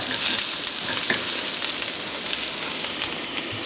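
Salt and pepper fish frying in a pan with jalapeno, a dense, continuous loud sizzle with crackling pops throughout.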